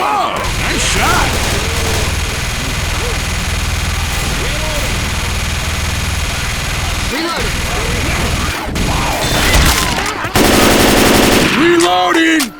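Dense automatic gunfire fills a Left 4 Dead 2 match, rapid loud bursts over a steady game-engine drone, pausing briefly before a final harsher volley, with game character voices calling out amid the shooting.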